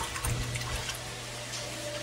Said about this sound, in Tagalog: pag naglabas ng tubig to, pwede mo nang bitawan